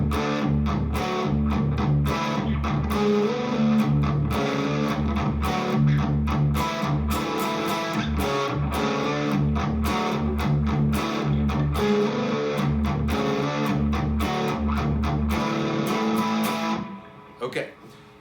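Distorted electric guitar plays the opening intro of a song, a loud, continuous and rhythmic strummed passage that cuts off abruptly near the end.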